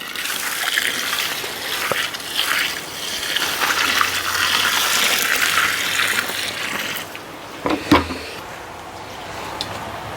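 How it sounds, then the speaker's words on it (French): Roughly 40 litres of hot water pour and gush into a barrel, a steady close rush of water that lasts most of the span, then eases off, with a couple of knocks near the end. "Donc dans ce fût, je vais mettre à peu près une quarantaine de litres d'eau."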